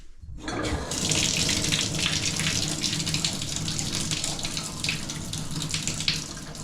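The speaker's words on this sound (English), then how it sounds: "Let's go drain as much of this water as we can." Water draining from a residential water heater, a steady rushing gush that starts abruptly after a short silence and keeps flowing loud and close without pause.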